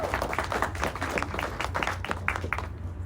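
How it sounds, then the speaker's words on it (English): Scattered audience clapping at a business talk with CEO Minh Nguyen, a handful of distinct claps repeating unevenly over steady low room hum, fairly quiet and thin, no talk. "So why don't you guys clap?"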